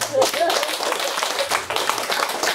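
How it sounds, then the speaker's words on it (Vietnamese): Scattered, fairly close hand clapping from a small audience at a Buddhist talk, uneven and brief, with speech mixed in among the claps. "Rồi cho bà phụ tràng vỗ tay"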